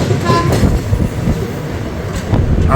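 Maa Tara Express train standing at Bardhaman Junction station platform, heard as a continuous low rumble and platform bustle with faint squeals and clatter, a soft voice briefly audible near the end.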